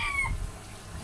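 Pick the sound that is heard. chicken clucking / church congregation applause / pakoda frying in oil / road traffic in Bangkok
chicken clucking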